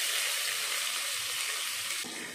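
Chopped onions sizzle steadily in hot oil with popped mustard seeds, cumin and lentils for a masala idly filling, a dense continuous frying hiss that holds even and close with no voices.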